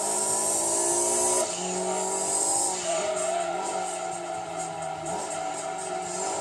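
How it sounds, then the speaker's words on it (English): Race car in the Gran Turismo 2 video game during an endurance race, its engine whining loudly and then dropping through rough downshifts, with tire squeal over a constant motor drone. "Oh, hear the downshift on this car?"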